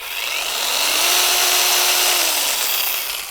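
A Leader 20V cordless chainsaw with a 10-inch bar whirs up to speed and holds a bright, high-pitched electric motor whine for a few seconds before easing off, loud and close with no voices.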